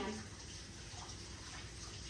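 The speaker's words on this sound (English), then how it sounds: "Let me rinse my hand off real quick so I can pick up my pan." Running tap water splashes steadily over a hand being rinsed at a kitchen sink, a faint, even hiss of flowing water that continues throughout with no talk.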